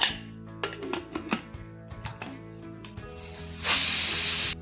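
A pressure cooker on a kitchen stove, cooking toor dal with a little oil for sambar, lets out a loud, steady rush of hissing steam near the end, after some scattered clicks and clatter.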